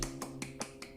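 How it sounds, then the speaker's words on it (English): A few small, light claps, a mini applause given by one person, heard as about six quiet, separate taps in a steady rhythm with no other sound around them. "this is a mini applause for you"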